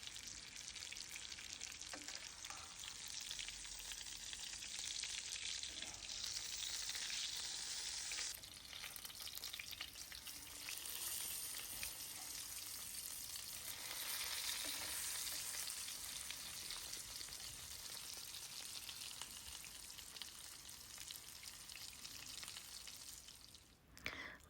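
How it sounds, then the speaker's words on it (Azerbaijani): Chicken fillet langets frying in a pan, a steady crackling sizzle with dense popping that swells and eases over a long stretch, quiet overall and without voices. "Gördüyünüz kimi nar kimi qıpqırmızı qızaran langetlərimiz bişir."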